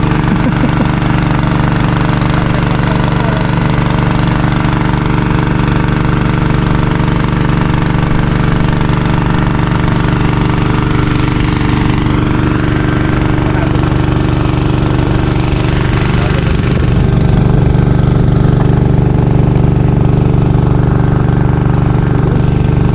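Motor engine running with a knocking piston, a loud continuous drone with a strong low hum and rapid rattling, steady throughout and alone, without talk.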